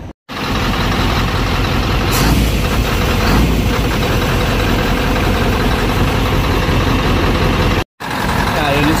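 A Scania 580-series truck engine idles steadily at close range, a loud continuous low rumble that runs nearly the whole time and cuts out briefly near the start and again near the end.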